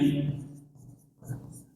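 Chalk or marker writing on a board during a thermodynamics lesson, with strokes near the start and again toward the end, mixed with a man's speech.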